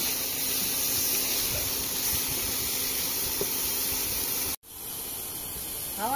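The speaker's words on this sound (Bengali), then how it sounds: "হাওয়া দিচ্ছে, হাওয়া।" Wind blowing in a steady, loud rushing hiss across the microphone, cutting out briefly near the end before resuming.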